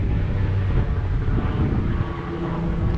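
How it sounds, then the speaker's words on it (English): An airplane passes overhead above a residential yard and driveway, a loud, steady low rumble with a broad roar that fills the clip without pause. "there's an airplane going over"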